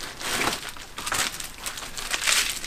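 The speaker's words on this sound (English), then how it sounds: "Plastic bag from the Hot Hands." A plastic bag from Hot Hands hand warmers crinkles and rustles up close in several irregular bursts of crackling, with no talk.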